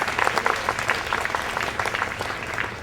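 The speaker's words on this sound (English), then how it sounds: "So maybe a quick round of applause for her." Applause rises from a conference audience at a children's literature association gathering, a steady, moderately loud wash of many hands clapping continuously without pause.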